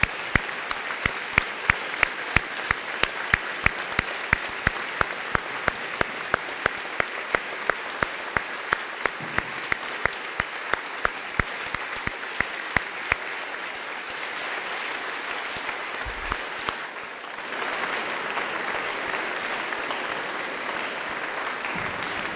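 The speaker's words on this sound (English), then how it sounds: "We'd like to send you out with a round of applause from our students" Students in a school gym applaud veterans at a Veterans Day program, a long burst of crowd clapping with sharp rhythmic claps standing out early, then settling into a dense steady wash that fades and briefly swells again.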